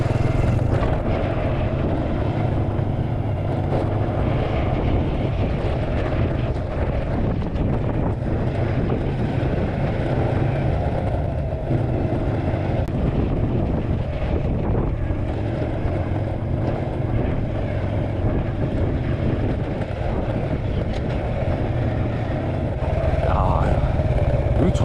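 A motorcycle rides steadily along a rural road in Cambodia, its engine drone continuous beneath heavy rushing wind buffeting the microphone, loud and unbroken throughout.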